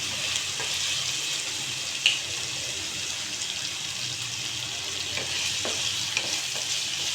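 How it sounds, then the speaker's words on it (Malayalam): Potatoes frying with cumin in a pan over high heat: a steady close hiss and sizzle with a few faint scrapes and one brief clink, and no voices. "ഞാനൊന്നിങ്ങനെ നന്നായി ഫ്രൈ ചെയ്യുന്നുണ്ട്"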